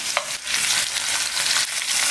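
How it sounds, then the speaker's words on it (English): Veal sears in a hot pan with a steady, close, crackling sizzle and bursts of spitting fat. Light stirring sounds come through, and no voices are heard. "Can you hear the sizzling?"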